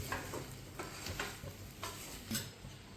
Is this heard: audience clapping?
no